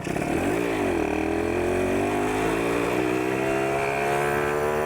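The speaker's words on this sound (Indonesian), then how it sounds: "narik sih kencang ini motor ini" On a road, a Suzuki Satria two-stroke motorcycle pulls hard under acceleration. After a short dip, its loud, raspy engine note rises steadily in pitch and stays close and continuous throughout.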